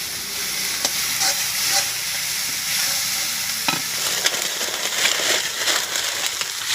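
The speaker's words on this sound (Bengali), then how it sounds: "পেঁয়াজটা লাল হয়ে গেছে, লঙ্কা বাটা দিলাম" Onion and chili paste fry and sizzle in a pan while being stirred, with a steady close crackle and scraping stir strokes throughout and no talking.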